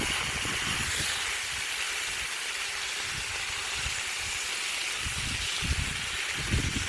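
Seasoned beef browning in a cast iron pot gives a steady, broad sizzling hiss up close, with low thumps and scrapes now and then as the meat is broken apart.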